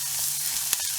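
Dried red chillies fry in hot oil for a yam fry, giving a steady, close sizzle with a faint stir partway through.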